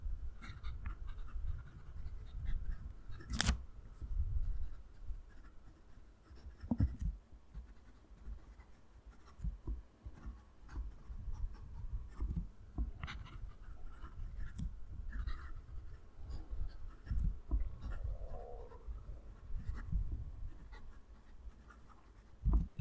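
A Leonardo Momento Zero Grande fountain pen with a fairly soft nib writes on paper, making quiet, close scratching strokes in an irregular rhythm with a few louder taps, with no talking.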